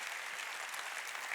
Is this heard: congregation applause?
yes